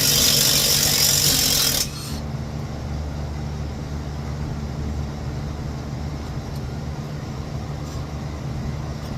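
Tools work on the bolts of a factory exhaust under a 1989 Dodge D100: a loud burst of hissing machine noise cuts off after about two seconds, leaving a steady low rumble and hum with no speech.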